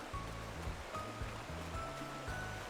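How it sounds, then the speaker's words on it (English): Waterfall in the Final Fantasy XIV game world, a steady rushing wash of water that runs without a break under a repeating low musical pattern, with no talk. "That's the waterfall I was thinking of."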